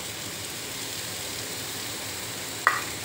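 Onion frying in a pan with garlic and chili for burger tikki, a steady low crackling sizzle up close, broken near the end by one sharp metallic tap from a utensil.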